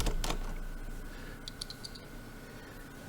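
Laptop keyboard handled and tapped during disassembly of a BIOS-locked notebook being refurbished, giving a few light plastic clicks and taps over a quiet background.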